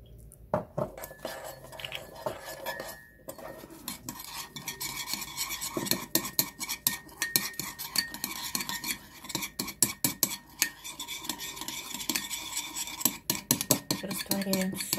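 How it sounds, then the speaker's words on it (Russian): A spoon stirs pepper, salt and wine vinegar in a bowl for a vinaigrette dressing, giving repeated close clinks and scrapes against the dish at an uneven, busy rhythm. "Мешаем перец, соль,"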